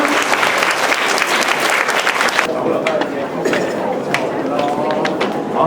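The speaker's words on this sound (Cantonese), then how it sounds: "請大家以熱烈嘅掌聲歡迎我哋嘅嘉賓" Warm applause from an audience welcoming guests at a school's 81st anniversary carnival, dense clapping filling the space, with a shift midway to a thinner, more scattered round.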